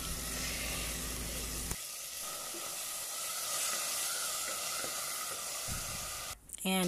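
Pork and vegetables for pakbet sizzle and hiss in a hot pan while being stirred, a loud steady frying roar with scraping, and a voice speaks over the sizzling in places.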